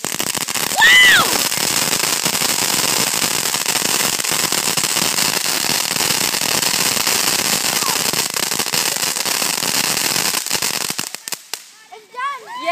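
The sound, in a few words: fireworks exploding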